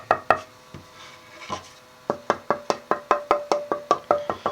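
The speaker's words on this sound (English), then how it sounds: "you can hear it's got a pretty decent tap tone" Knuckle taps on a cherry tonewood board for guitar building, a few scattered knocks followed by a steady run of about a dozen resonant, close taps.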